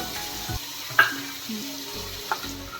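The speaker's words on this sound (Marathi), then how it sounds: "तेल गरम झालेलं आहे त्यामध्ये आपण जिरे टाकूया आलं लसूण पेस्ट टाकूया" Cumin seeds and ginger-garlic paste hit hot oil in a pan, producing a close, steady sizzle with a couple of brief utensil taps and a soft clatter, and no one speaking.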